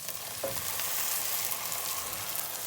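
Tomatoes hit a pan of frying garlic with a steady, close sizzle that crackles and hisses without a break, and there is no talking.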